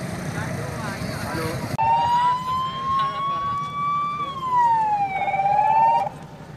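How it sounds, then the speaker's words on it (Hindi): A loud wailing fire engine siren rises and falls in long sweeping tones close by on the Digha bridge in Patna, responding to a burning auto-rickshaw, following a brief stretch of traffic rumble at the start. "फायर ब्रिगेड की गाड़ी पहुंच चुकी है।"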